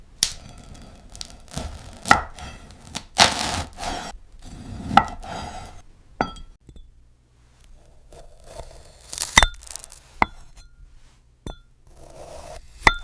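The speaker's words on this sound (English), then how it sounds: "This glass fruit cutting video was created entirely by AI in just 10 seconds" An AI-generated glass fruit is sliced with a series of crisp, crunchy rasping and scraping strokes. The cuts come in irregular bursts separated by short quiet gaps.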